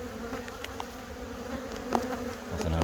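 Honeybees in a big, full hive box on a rapeseed-bound apiary make a steady, close, dense buzz that holds on without pause, with individual bees droning past now and then.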